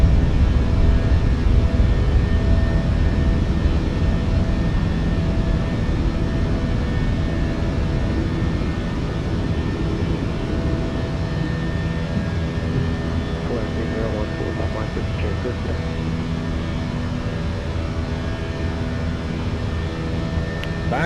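Inside the cockpit of a Volaris Airbus A320 climbing after takeoff, a loud steady engine and airflow roar fills the space with a constant broadband drone, with speech in the background.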